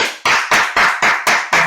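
Hands clap seven times in an even, steady rhythm, each clap sharp, loud and close, re-enacting applause in the middle of a cinema with no talk over it.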